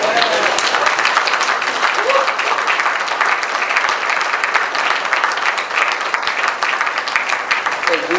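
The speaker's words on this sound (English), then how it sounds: "Give a clap for yourself." An audience at a laboratory's first anniversary celebration applauds continuously, a dense, even wash of clapping that holds steady throughout.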